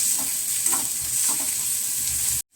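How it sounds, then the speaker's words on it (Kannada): Vegetables fry in a pan with a steady, close sizzle, while a spoon stirs in a soft, repeating rhythm underneath until the sound cuts off abruptly. "ಇದು ಫ್ರೈ ಮಾಡ್ಕೊಂಬಿಡೋಣ"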